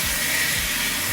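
Pressure washer blasting water at full power onto a Mystery Ranch High Water shoulder bag, a loud steady hissing spray roar with a low motor pulse underneath, close and continuous.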